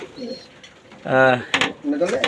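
Racing pigeons coo in a loft, a clear stacked burst of cooing in the middle with softer coos before and after, close by.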